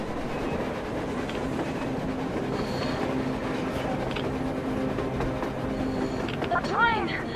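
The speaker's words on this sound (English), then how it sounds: "A train! A damn train on the surface!" A train runs on rails on the surface in the Metro Exodus video game, a steady rumbling roll with faint clatter, with voices talking over it.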